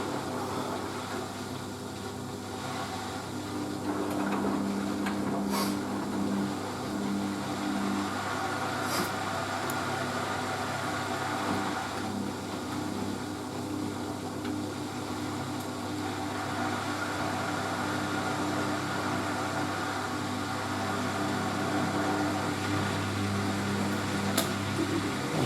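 A Merloni Electra WD1100 washer dryer runs a 500 spin on a 50°C acrylics and delicates cycle, giving a steady whirring hum with occasional knocks from an unbalanced drum.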